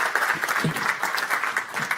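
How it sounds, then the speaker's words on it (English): A crowd at a digital health tech forum applauds a panel, with steady clapping from many hands and some sharper individual claps standing out through the brief burst. "Another round of applause for them."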